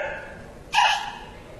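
A storyteller in a Suzhou Pingtan performance imitates the shrill scream of a pig being slaughtered, a single sharp squeal lasting under half a second that rises over quiet background hum.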